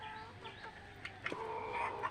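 Egyptian (Misri) hens clucking in a poultry enclosure, soft, close-by throaty clucks and short calls that come in a few quick bursts over a quiet background.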